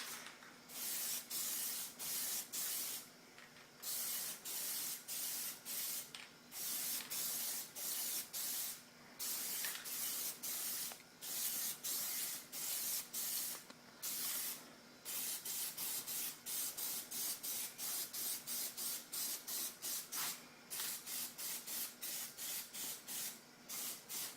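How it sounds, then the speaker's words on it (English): Short, repeated bursts from a spray can apply Plasti Dip to a car's wheel rims. Each hiss lasts a second or two, with brief pauses between them, close and steady. "don't be afraid to overspray"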